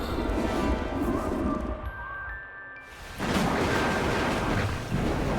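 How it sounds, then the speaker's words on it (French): Loud rolling thunder in an animated adventure episode, a heavy rumble that briefly drops away and then surges back even stronger for the last seconds. "j'avais jamais entendu le tonnerre aussi fort"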